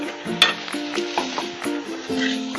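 Torn leftover roti pieces are tossed and stirred into a spiced masala in a hot pan with coriander leaves, giving a steady close sizzle broken by several scraping stirs and soft clanks.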